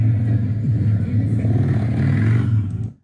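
A race car's engine pulls hard on the throttle through a long straight, a loud, steady low rumble with rising harmonics holding for nearly three seconds before cutting off abruptly.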